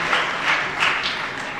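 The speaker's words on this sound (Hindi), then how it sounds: "जरा तालियां बजा दें" A brief burst of crowd clapping at a Jain religious discourse, dense and steady, with many hands applauding together at moderate loudness.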